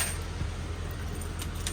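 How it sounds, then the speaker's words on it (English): A set of travel trailer keys jangles softly in a drawer, a light continuous metallic rattle with a couple of brighter clinks near the end over a low steady hum. "There's two sets of keys."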